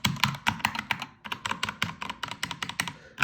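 Keystrokes on a Keychron K2 keyboard fitted with tactile brown switches, an uneven run of crisp clicks and clacks with a brief pause near the start, close and fairly quiet.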